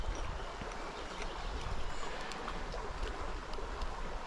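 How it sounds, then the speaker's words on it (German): A stream flows through Lüneburg heathland, a steady close rushing burble of water mixed with gusty wind noise, continuous and moderately loud with no voices. "hier verläuft schön der Bach lang"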